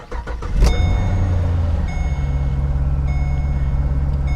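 A Chevrolet police car engine cranks briefly with a key and catches, then settles into a steady, close, loud idle with a low rumble and no talking.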